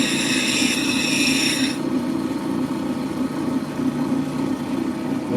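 A stone cabochon ground on a grit wheel gives a steady, loud rasping whir throughout, with a sharper high-pitched scrape in the first couple of seconds before it settles into a constant grind.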